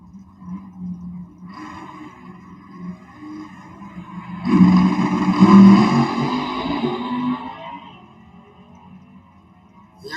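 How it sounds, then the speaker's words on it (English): A Pontiac drag car runs in high gear at a stick shift nationals drag race, a distant engine roar that surges loudly mid-run, peaks, then fades away as it passes. "Here comes the Pontiac in high gear"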